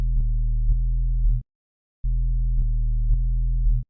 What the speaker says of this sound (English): let's distort that sine wave and let's just filter it after